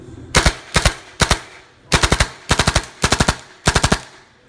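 A Tippmann M4 CQB airsoft rifle fires on full auto in seven short, close bursts of rapid sharp shots, each burst about three to five rounds, with brief pauses between them and no talking.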